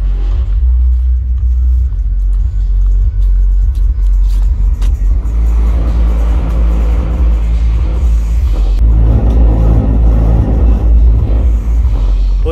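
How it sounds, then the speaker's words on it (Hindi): A tractor engine rumbles nearby with deep, booming bass, the low drone swelling louder toward the end as it passes. "कोई बंदा जा रहा लियो भाई कैसी क्या बेस है ट्रैक्टर की"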